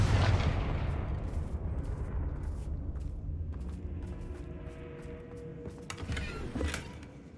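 Confringo fire spell explosions in the video game Hogwarts Legacy: a loud booming blast opens, then a long rumbling, crackling decay, with another sharper burst near the end; no voices.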